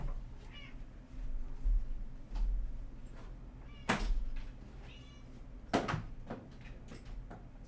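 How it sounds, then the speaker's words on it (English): A cat meows for food several times at close range in a quiet indoor room, with short cries spaced across a few seconds over a low background hum. "My cat wanted food, so had to feed her."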